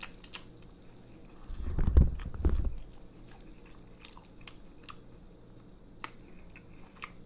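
Someone chews a bite of grilled Reuben sandwich from a panini press, a short burst of soft, moist mouth sounds up close, then quiet with faint clicks.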